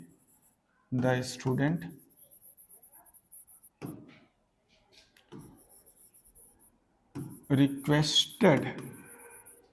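Chalk or marker writing on a board during an English grammar class, soft scratchy strokes between bursts of a teacher's speech.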